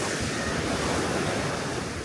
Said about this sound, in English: I'm pretty sure that's what's causing these waves to break over here